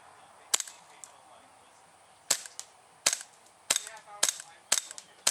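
A KJW KC02 airsoft rifle firing outdoors, sharp snappy single shots spaced irregularly, about eight in all, loud and close against faint background ambience.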